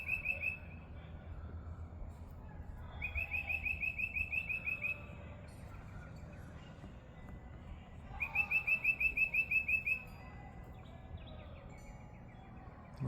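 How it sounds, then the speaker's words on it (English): A bird repeats a rapid, high trilling chirp in three separate bursts, with quieter outdoor ambience filling the gaps between them. "I love this time of year, the sound of the birds."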